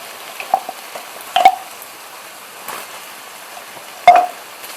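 Chili, garlic, ginger and onion mix frying in a hot pan for an extra-hot curry, a soft steady sizzle broken by a few louder bursts and clatters as it is stirred, with no talking.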